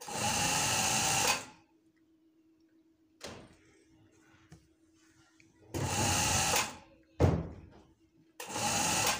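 A sewing machine stitches a shirt in three runs of fast, buzzing whirring, each a second or two long, separated by quiet pauses with a faint hum, small handling clicks and sharp knocks.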